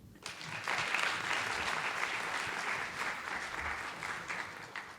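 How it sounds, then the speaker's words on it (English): A steady round of clapping from an audience for students at a voice workshop, sustained and fairly even for several seconds, heard from a moderate distance. "a bigger round of applause for the students who walked in"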